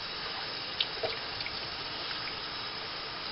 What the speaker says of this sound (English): I'm going to turn on warm water slowly, okay, and wash my turkey